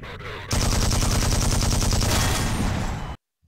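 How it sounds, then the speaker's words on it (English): Rapid bursts of enemy shotgun fire in a first-person shooter, loud and dense, rattling almost continuously for about two and a half seconds before cutting off abruptly into silence. "They have shotguns."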